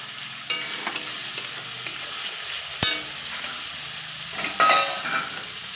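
Spices stirred and frying in a pan for a jackfruit (kathal) curry, giving soft scraping stirs and a low sizzle, with a sharper utensil knock midway and a louder burst of sizzling near the end.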